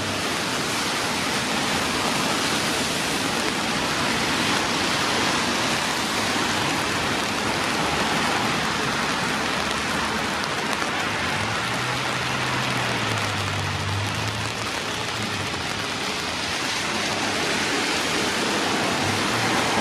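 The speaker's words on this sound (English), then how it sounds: "It's still raining." Steady rain pours outdoors near a police station in Scotland, a loud, unbroken hiss of falling water that fills the whole stretch without any voices.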